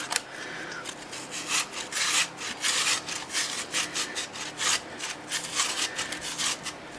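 Potatoes grated by hand for hash browns, a steady rhythm of close, rasping back-and-forth strokes, loud and alone with no talk.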